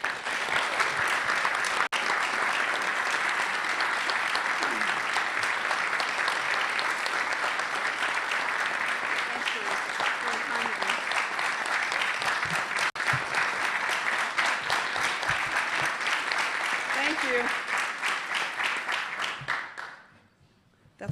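Sustained audience applause welcoming Billie Jean King, a dense wash of clapping from a large crowd lasting about twenty seconds before fading out quickly at the end.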